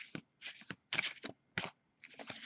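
Dark Grimoire tarot cards being shuffled by hand, several quick papery riffling bursts with short pauses between them, close and fairly quiet, with no talking.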